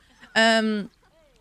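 An Egyptian Fayoumi chicken in the Planet Zoo video game gives a single short, nasal squawk, loud and close, then falls quiet.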